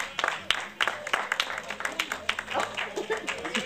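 Audience applause at a 2005 fashion show, a burst of many hands clapping briskly, close and moderately loud, with a voice briefly heard over it.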